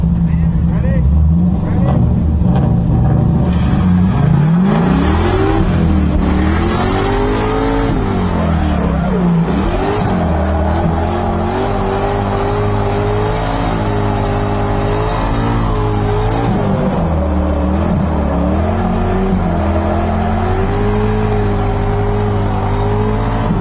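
LS-swapped Mazda Miata racing an E36 truck: a loud, droning V8 engine note rising and falling through revs and gear changes, continuous and close, with people talking over it.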